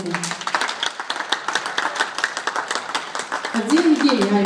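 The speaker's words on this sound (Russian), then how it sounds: "надо сильнее аплодисменты" A room of party guests claps in a brisk, fairly dense burst of applause for an orchestra, sustained for several seconds with voices mixed in near the end.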